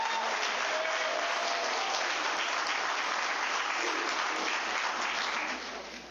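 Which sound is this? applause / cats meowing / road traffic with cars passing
applause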